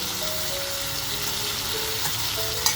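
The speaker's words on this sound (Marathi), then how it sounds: "आणि मस्त आपल्याला हे ना फ्राय करत राहायचं आहे" Mutton masala fries steadily in a pan with a constant close sizzle and faint scraping of stirring, no voices present.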